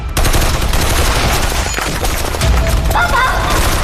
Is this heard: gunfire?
yes